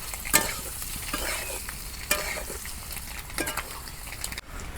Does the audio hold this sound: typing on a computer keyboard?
no